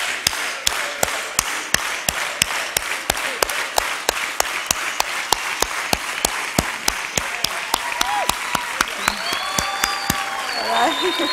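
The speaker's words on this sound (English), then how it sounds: "One more unified hand clap." A college event audience joins in a unified hand clap, loud sharp claps in a steady even rhythm about two per second with cheering and voices rising near the end.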